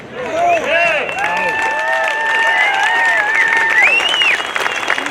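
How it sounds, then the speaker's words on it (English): Rally crowd at a Second Amendment rally in Phoenix, Arizona applauding loudly and continuously, with cheering voices and shrill whistles rising over the clapping. "give yourselves another round of applause for being here"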